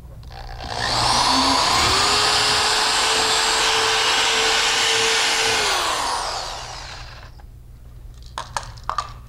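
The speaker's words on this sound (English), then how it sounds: "And we're going to drill this hole." A power drill bores a hole in a wall near an electrical outlet during a Honeywell L5100 alarm panel installation, a loud steady whine running about five seconds before winding down, followed by a few faint clicks.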